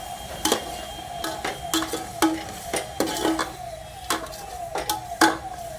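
Onion frying in a pan while being stirred for pasta, a soft, steady sizzle broken by regular scraping clicks of the spoon against the pan, fairly close and with no talking.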